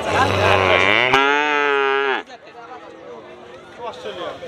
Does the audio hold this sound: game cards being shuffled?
no